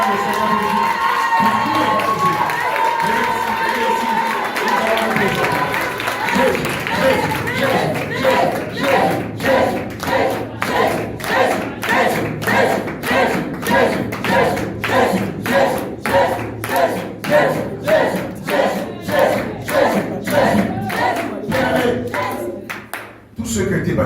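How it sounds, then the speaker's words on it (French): Large crowd at an evangelistic crusade cheering and acclaiming Jesus, loud sustained shouting that settles into rhythmic unison clapping, steady and energetic throughout. "Je veux qu'on acclame le Seigneur Jésus."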